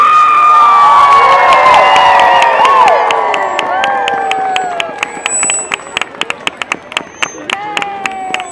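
A holiday tree lighting crowd in Rochester, New Hampshire erupts into loud, close cheering and shouting. The roar gradually thins out into scattered whoops and sharp claps.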